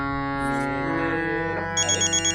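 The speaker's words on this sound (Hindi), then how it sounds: "एक अर्जेंट फोन आया" A phone ringtone cuts in over sustained sung music during a music lesson, a short bright repeating electronic ring pulsing four times near the end, moderately loud.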